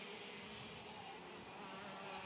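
OK direct drive racing karts scream at a high, constant pitch near 16,000 RPM, a distant sustained engine whine blurred into a steady roar down the straight, with no voices.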